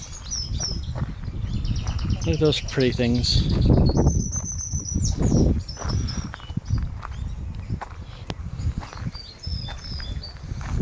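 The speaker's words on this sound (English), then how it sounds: "Got an aviary with birds." Small birds in an aviary in the Elizabethan garden at Kenilworth Castle give short chirps and trills midway, while footsteps crunch on gravel and a person talks nearby.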